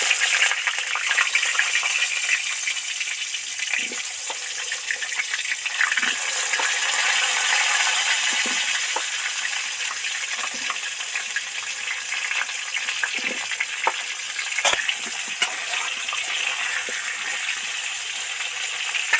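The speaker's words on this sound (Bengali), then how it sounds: "আলুগুলো আস্তে আস্তে ভেজে নেব" Potatoes sizzle and crackle slowly in hot oil in a home kitchen, a steady close frying hiss with small pops and spits scattered throughout, with no one talking.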